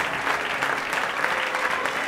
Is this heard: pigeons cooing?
no